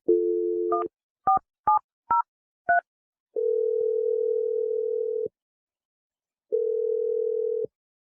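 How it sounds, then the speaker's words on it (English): Telephone dialing tones: a steady dial tone, then five short key beeps in quick succession, followed by two long ringback tones separated by silence, clean and close. "I'm dialing her number right now."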